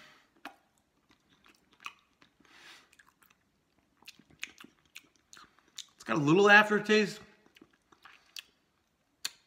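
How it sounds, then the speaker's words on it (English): Crunchy birthday cake flavored protein bar being chewed close up, faint crisp bites scattered throughout, with a brief burst of spoken voice partway through. "It's a very crunchy bar though."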